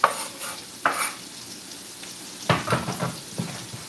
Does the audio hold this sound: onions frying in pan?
yes